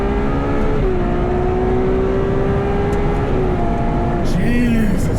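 A 789 hp Ferrari 812 Superfast engine revs hard and close, its sustained tonal howl climbing and holding steady before easing, loud and smooth throughout.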